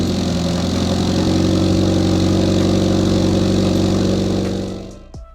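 A modified 2014 Toyota GT86 with an HKS muffler runs at a steady, loud, droning engine note close by, holding constant for several seconds before the sound cuts off abruptly near the end.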